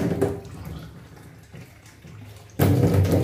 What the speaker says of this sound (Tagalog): lalagyan ng tubig